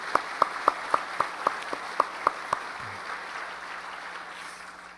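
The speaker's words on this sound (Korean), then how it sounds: "우리 감사의 박수를 한번 올려드리겠습니다" Applause from a church congregation during a Sunday service marking the church's twentieth anniversary, heard as about ten sharp, evenly spaced claps that stop after two and a half seconds and leave a hushed room.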